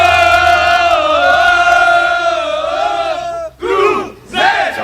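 Football fans gathered for the Cruzeiro versus Atlético Mineiro derby chant loudly in unison, then break into rising shouts and cheers as a crowd close by.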